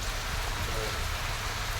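Heavy rain pouring down in Erode district, Tamil Nadu, a loud, dense, continuous hiss of rainfall hitting surfaces, steady and close with no pauses.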